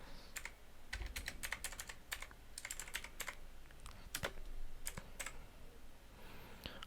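Typing on a computer keyboard, quiet close key taps in irregular bursts and single clicks with short pauses, over a faint room hush.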